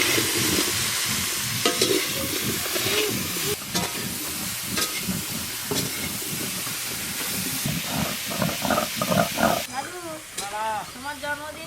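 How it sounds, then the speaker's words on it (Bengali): Potato and pointed gourd fry together in a pan with a continuous loud hiss and sizzle, occasional stirring scrapes, and a voice sounding over the cooking toward the end. "পটল চিংড়ির জন্য আলু আর পটল একসঙ্গে ভালো করে ভেজে নেব"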